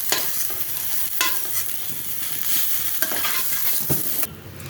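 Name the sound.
soybean chunks frying in a pan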